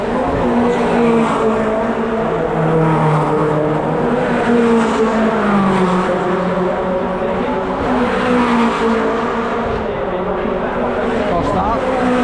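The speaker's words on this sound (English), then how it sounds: "A lot of cars in here all of a sudden." V8 Supercars race around a track in a pack, engines roaring continuously and tyres squealing as they jostle for position, with commentary running over the noise.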